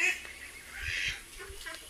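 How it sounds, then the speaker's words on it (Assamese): Domestic ducks or geese on a village homestead, a few faint, scattered honks and quacks from a short distance, alone without speech. "এইফালে একদম ঢেৰ হাঁহ পুহিছে"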